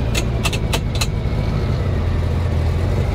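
A 1937 Chevy car idles with a loud, steady engine rumble as it is pulled forward, with a few brief metallic clicks near the start.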